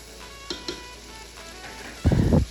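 Kadhi masala with mashed tomatoes fries in a pan: a soft background sizzle with a couple of light stirring taps, then a loud burst of scraping and sizzling near the end.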